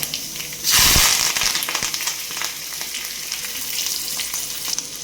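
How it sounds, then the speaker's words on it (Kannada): Garlic and curry leaves hit hot oil for a ridge gourd lentil sambar tempering, bursting into a loud sudden crackle that settles into a continuous close sizzle with light popping. "ಒಗ್ಗರಣೆ ಸ್ವಲ್ಪ ಹಿಂಗೆ ಹಾಕ್ಕೊಳ್ತಾ ಇದ್ದೀನಿ"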